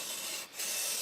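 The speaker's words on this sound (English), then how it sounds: "You grab your chisel end, use your marker and simply colour in the edges of your project." Chisel-tip marker rubbed along the edges of a paper craft project, a steady close dry scratching that runs continuously with a brief lull midway, no voices.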